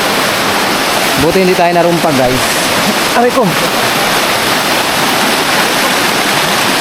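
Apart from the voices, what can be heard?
strong rushing river water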